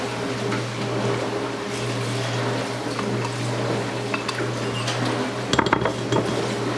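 Diced jalapenos being stirred with strawberry preserves in a dish, a steady soft scraping under a constant background hum, with a few brighter clinks of utensil on the dish near the end.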